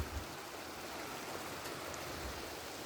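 The Cinangka river near Jalan Cagak in Subang flows with a steady, soft, continuous rush of water, low and even throughout with no voices.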